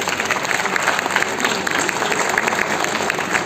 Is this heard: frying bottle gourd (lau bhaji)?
no